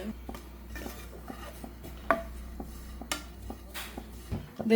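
Desiccated coconut roasting in a pan while a spoon scrapes and taps against the metal, irregular light clinks and stirring scrapes at close range over a quiet kitchen background.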